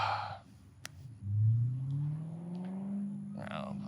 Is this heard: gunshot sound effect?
no